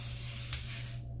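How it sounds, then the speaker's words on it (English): Lanza Dramatic FX aerosol hairspray sprayed onto long hair, a close, steady hiss lasting about a second before cutting off. "now I'm gonna take a light hairspray"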